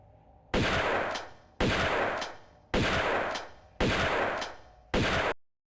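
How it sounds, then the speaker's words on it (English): Five heavy shotgun blasts from the Tomb Raider game fire at a steady, even pace, each loud boom tailing off before the next, with no talk. "you have to give credit to the game developers for using such a great sound for the shotgun"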